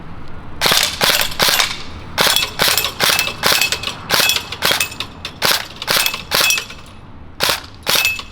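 Krytac KRISS Vector airsoft AEG in limited edition Alpine White firing two-round bursts, a string of sharp paired cracks repeating in an even rhythm, loud and close, with no talking.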